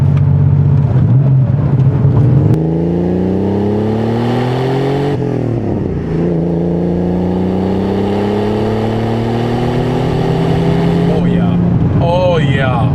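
A 1987 Porsche 930 Turbo's engine pulls hard through the gears from inside the cabin, its loud droning note rising steadily with each upshift, while people talk over the engine near the end.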